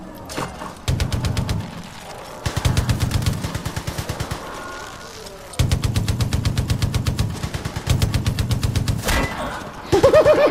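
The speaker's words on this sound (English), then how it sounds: "Oh, now I'm just melting people with LMG." Sustained bursts of light machine gun fire in Far Cry 5, loud and close, rapid rhythmic rounds in several long strings separated by brief pauses, with no talk over it.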